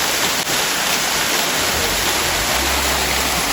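A natural waterfall in Darjeeling roars as a dense, continuous rush of water heard from close by, loud and unbroken, with no voices over it.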